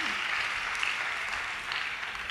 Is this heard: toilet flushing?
no